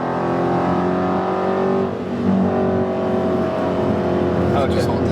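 A Dodge Challenger SRT accelerates hard with a loud, steady engine roar that rises through the gears as it upshifts, heard from inside the car while people talk.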